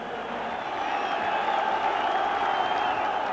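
A large football crowd arriving at Ibrox stadium gives off a steady, distant roar of massed voices and murmur that swells slightly and holds without letup.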